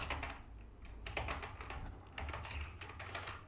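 A company name is typed on a computer keyboard, a close, steady patter of quick key taps with brief pauses between bursts, fairly quiet.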